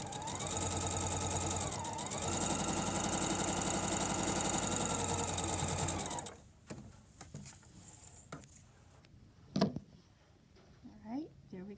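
A sewing machine stitching fabric bunting, a loud steady rapid mechanical whir for about six seconds, then stopping, followed by quieter handling noises and a few soft knocks.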